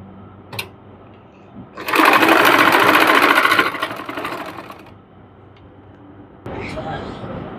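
Sewing machine stitching a trouser hem, running in a loud steady burst for about two seconds before easing off, with a couple of light clicks before it and a short renewed whir at the end.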